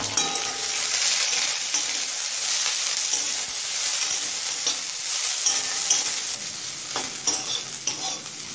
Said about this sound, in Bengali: এবার দিচ্ছি পাতলা করে কুচনো একটা বড় সাইজের পেঁয়াজ